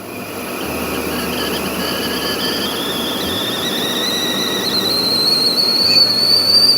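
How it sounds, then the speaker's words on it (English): A kettle's whistle on a camp stove outdoors rises in pitch and grows louder, starting thin and building to a shrill, steady tone over a low background rumble. "Oh, it's about to whistle."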